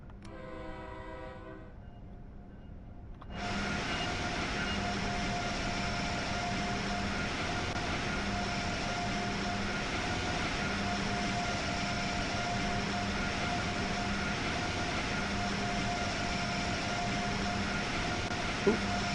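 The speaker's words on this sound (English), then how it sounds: "I think we've got locos in the yard here." Locomotives idling in a rail yard in Train Sim World 5. A short horn-like tone comes first, then a loud, steady engine rumble begins abruptly and holds at one level to the end.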